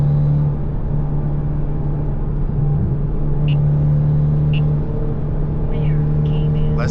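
Cars on a road heard from inside a manual Hyundai Elantra N, with a steady low engine drone and rumble throughout and faint higher whirs as another car nearby seems to push its engine.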